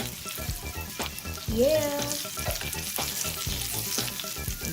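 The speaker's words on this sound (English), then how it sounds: "sizzling good" Hand-breaded cheese sticks sizzle and crackle steadily in hot grapeseed oil in a pan, a close, continuous frying hiss; a voice speaks briefly over it.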